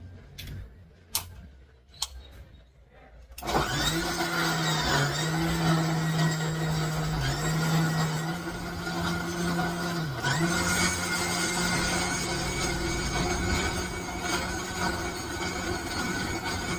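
A few faint clicks, then a mixer grinder grinding homemade beauty cream ingredients starts abruptly and whirs loudly and steadily, its pitch dipping briefly as the load shifts.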